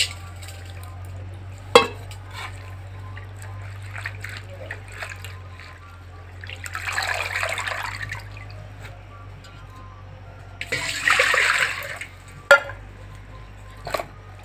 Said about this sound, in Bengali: এখন আমি জল দিয়ে ধুয়ে নেব।